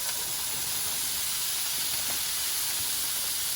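Thawed vegetables sizzle in a hot pan for Dollar Tree fried rice, giving a steady, loud, close hiss of frying with no talk.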